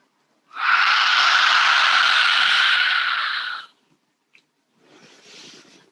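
A lion's breath yoga exhale with the tongue out, one long forceful breathy whoosh lasting about three seconds, then a softer, shorter breath afterward, heard up close in a quiet room.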